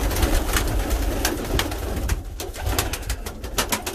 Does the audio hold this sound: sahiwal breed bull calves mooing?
no